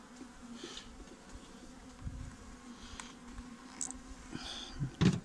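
Honey bees drone steadily inside a beehive during late-October colony consolidation and honey stock checks, a close, continuous buzz with a few sharper bursts near the end and no talking.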